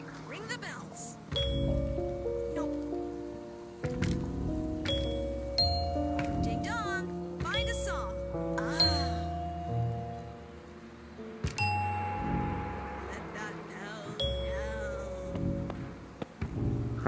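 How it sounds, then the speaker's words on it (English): Bells rung to make music in the Ghost Giant VR game on Quest 2, bright chiming strikes forming a melody over layered tonal backing, with sparkling high pings scattered through. "Ring the bells."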